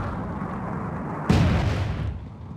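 Mortar fire lands in a competitive video game match as a single heavy boom with a broad burst, rising over a steady bed of game noise and then slowly fading.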